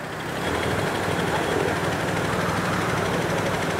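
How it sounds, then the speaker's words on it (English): A tractor engine idles on a rough mountain road in Mustang, Nepal, a steady low diesel chug and broadband rumble that swells in after a moment and holds constant, fairly close and alone. "The tractor came to pick us up."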